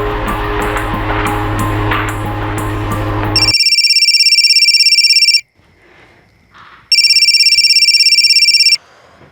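An unanswered telephone rings in two long bursts of loud, bright electronic trilling, separated by a short quiet pause. Dramatic music with a pulsing beat plays before the ringing starts.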